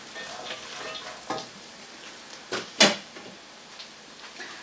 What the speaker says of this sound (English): carrots and celery. Give those a little stir around.